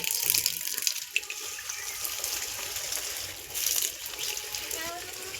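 A hose pipe pours cold water over a small calf during its summer bath, a steady broadband rush and splash that runs continuously throughout with slight surges.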